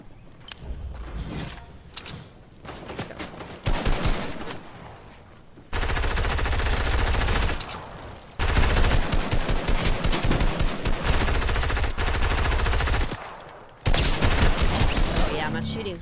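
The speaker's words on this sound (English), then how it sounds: "Shooting's gotten a lot better." Video game gunfire in an alien invasion shooter, bursts of rapid automatic fire alternating with pauses and heavier sustained volleys, loud and close, with talking mixed in.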